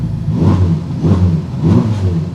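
A 2021 Ferrari Roma's turbocharged engine revs in three rising surges, loud and close, with a muffled, throaty tone and no talking.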